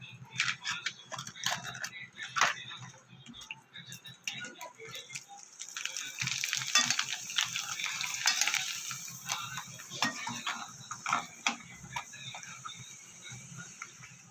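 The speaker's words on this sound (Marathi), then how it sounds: "आपल्याला पापड तेलामध्ये चांगलं भाजून घ्यायचं आहे." Rice papad frying and puffing in hot oil, an uneven crackling sizzle in bursts with occasional scrapes and clinks, fairly quiet and close, building slightly toward the middle.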